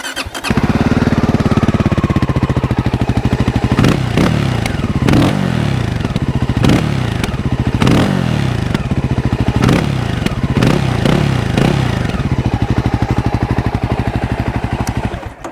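A Voge 300 Rally motorcycle with its stock exhaust fires up and idles loudly, punctuated by repeated sharp revs that rise and fall, close by and without speech.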